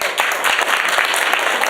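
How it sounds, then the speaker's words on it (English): An audience at a 20th-anniversary Falun Gong appeal gathering gives a speaker a round of applause, a steady, fairly loud mass of clapping with no speech on top. "Let's give him another round of applause."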